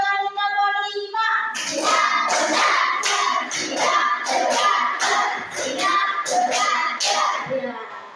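A class of young children clapping a counted rhythm together in unison, sharp group claps in quick repeated bursts after a brief sustained tone, fairly loud and close with slight shuffling between.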